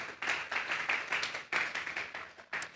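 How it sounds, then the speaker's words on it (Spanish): A church congregation clapping together as an offering of praise to God: a steady, dense wash of many hands, swelling in rhythmic surges with a brief dip midway, no voices over it. "Vamos a regalarle una ofrenda de palmas a Dios"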